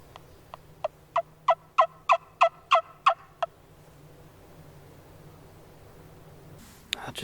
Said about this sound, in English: Heard the first gobble way across the river.